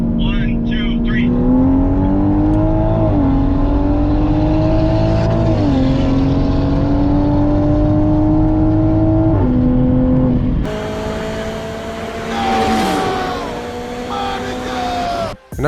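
A Toyota Supra and a built-motor Audi RS3 accelerate hard side by side in a race, engines droning loud and close with steadily rising revs, a brief drop at a gear shift, then a second surge that climbs again before cutting off.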